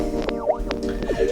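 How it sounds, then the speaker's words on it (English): Wobbly modular synthesizer tones from a Xaoc Devices Kamieniec with LFO modulation, swooping, warbling pitch sweeps over a steady droning bed, repeating in an unsteady, wonky rhythm. "So we can achieve some crazy wonky modulations like you can hear it right now."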